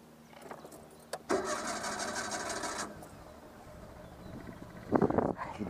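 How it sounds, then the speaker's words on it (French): Renault 11 GTL starter motor cranking with a brief whirring buzz, then the engine catching and settling into a quiet idle, heard fairly faint and close with no talking. "Enfin, le bruit du démarreur surtout"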